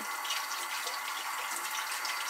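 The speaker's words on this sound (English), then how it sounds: "rinse off your toothbrush to make sure there is no more toothpaste on it." Water runs steadily from a tap as a toothbrush is rinsed clean of toothpaste, a close, even hiss of flowing water into a sink with no voices.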